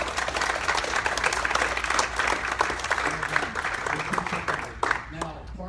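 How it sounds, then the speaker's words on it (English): Audience applause after a talk at a 1 Million Cups community event, sustained close clapping with some crowd murmur and voices mixed in as it tapers off near the end. "Let's give him a good big round of applause."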